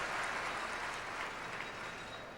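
Faint, distant applause from spectators at a women's curling world championship rolls as a soft, steady wash of clapping that slowly fades.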